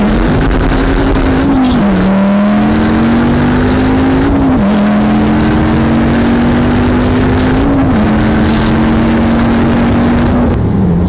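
Lamborghini Aventador SV V12 engine accelerating hard on a freeway in Mexico, a loud, close, sustained roar climbing in pitch through several gear shifts, each upshift marked by a brief dip.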